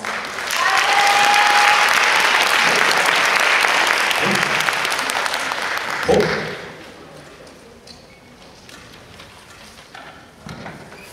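Loud audience applause and cheering for a yosakoi dance team at a festival, a dense wash of clapping lasting about six seconds before dropping to a quieter murmur with occasional thumps.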